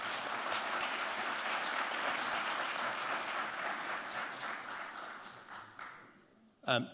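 Audience applause at a State of the City address, a dense, loud wash of clapping that holds steady for several seconds, thins out near the end, then gives way to a brief louder burst.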